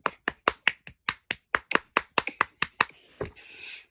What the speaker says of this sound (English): YouTubers, give Tom Moore a big clap.